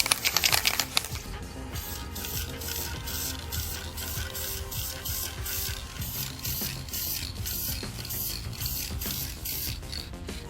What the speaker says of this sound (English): we're still going to use our famous high temperature automotive spray paint here